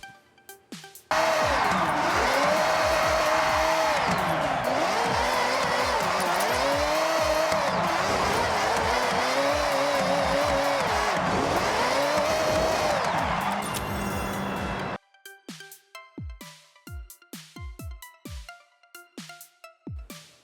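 A car drifting in Forza Horizon 6, a loud sustained engine roar with wavering tire squeal for about fourteen seconds, then cutting to sharp scattered knocks and clicks.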